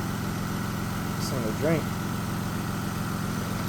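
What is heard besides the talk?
Lexus SC300 engine idling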